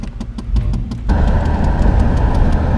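Car engine running after a Seafoam treatment, first idling with a regular pulsing beat, then rising abruptly to a louder, steady, rougher run held at higher RPM until the end.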